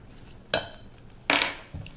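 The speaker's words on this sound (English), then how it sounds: "we're going to have to stir it really fast" Peanut brittle mixture with baking soda being stirred fast in a pot, two sharp scraping clinks of a utensil against metal and a third softer knock, close and brief over quiet background.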